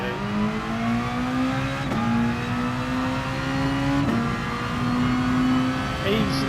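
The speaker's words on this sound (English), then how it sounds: "on the power, short shift up to second to minimise the wheel spin" A race car engine pulls hard out of the Suzuka hairpin in a racing game, rising in pitch through first gear before short-shifting up, with a second upshift later, steady and loud throughout.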